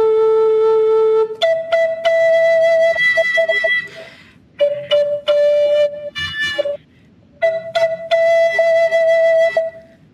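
A flute plays slow, hesitant single notes, each held then broken off by pauses, the phrases halting and disconnected, close and clear with no talking.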